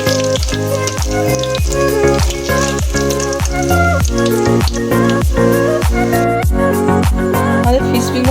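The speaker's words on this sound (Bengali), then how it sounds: "ফিশ ফিঙ্গারটা আমি গোল্ডেন ব্রাউন করে ভেজে নেব।" Homemade fish fingers sizzle steadily in hot oil as they fry golden brown, a dense continuous crackle with quick popping spatters, loud and close with no talking.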